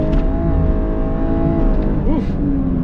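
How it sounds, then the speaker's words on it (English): A 2022 Lexus LC 500h hybrid rated at 354 horsepower accelerates hard on a straight road in traffic, a loud, rising engine note with sweeping tonal harmonics, heard from inside the car. "This thing definitely gets up and goes with 354 horsepower."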